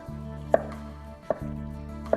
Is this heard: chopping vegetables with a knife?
yes